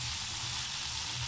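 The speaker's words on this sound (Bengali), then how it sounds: "আলু আর টমেটো কিন্তু খুব সুন্দরভাবে ভাজা হয়ে এসেছে" Potatoes and tomatoes fry in a pan with a soft, even sizzle, heard briefly and quietly on its own.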